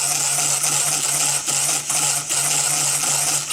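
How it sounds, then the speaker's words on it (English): A small model engine on a time-machine replica runs with a steady high-pitched mechanical whine and a low hum, dipping briefly in volume a few times as it keeps going on its own. "And the intermittent engine noise, it doesn't bother me."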